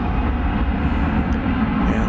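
A Boeing 787-9 Dreamliner jet airliner departs DFW Airport on an Australia-bound evening flight, giving a steady, continuous engine roar that stays even and fairly loud throughout with no talking.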